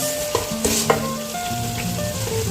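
Cauliflower and potato curry fries over high heat, a steady close sizzle with a few sharp clinks and scrapes of a spoon stirring through the pan.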